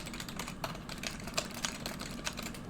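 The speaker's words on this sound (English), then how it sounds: "I know I'm a very loud typer." Loud, fast typing on a computer keyboard, a run of close, sharp key clicks in an irregular rhythm with several heavier strokes, heard alone without speech.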